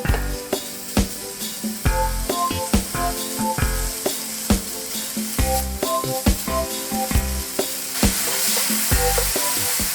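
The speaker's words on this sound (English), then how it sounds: "Let's heat the frying pan, add the bacon, and fry for a minute or so." Bacon frying in a hot frying pan, a loud continuous sizzle and crackle with frequent sharp pops and spits, close and alone without talk.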